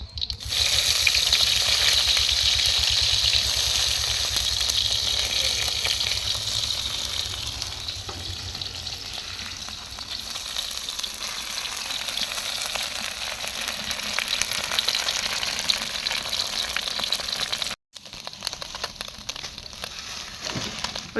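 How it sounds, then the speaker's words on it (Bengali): Small tangra and puti fish sizzle and crackle steadily in hot oil in a pan, a loud continuous frying hiss that holds for about eighteen seconds before a brief break and a quieter return. "হয়েছে তো মা মাছ ভাজি।"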